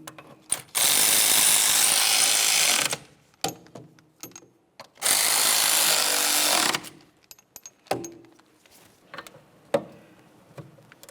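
A wrench tightening a rear brake bolt on a 2009-2010 Pontiac Vibe gives two long, loud bursts of rapid ratcheting clicks separated by scattered metallic taps and clinks, close up, with no talking.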